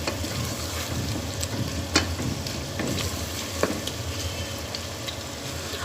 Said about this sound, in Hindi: 5 मिनट हो गए हल्की आंच पे टमाटरों को पकाते हुए।